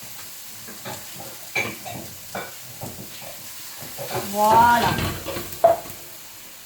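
Chicken and peppers stir-fry over high heat in a wok, with a hiss and sizzle and scraping stirs that swell as water is added, while a voice speaks briefly nearby.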